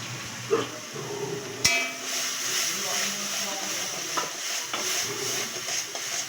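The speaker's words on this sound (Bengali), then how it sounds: "যতক্ষণ পর্যন্ত তেল না ছাড়ছে ততক্ষণ এটা নাড়াচাড়া করে যেতে হবে" Spice paste of ginger, garlic and onion is stirred and fried in oil in a pan, giving a steady soft sizzle with scraping spoon strokes and a few sharp clinks against the pan, close by.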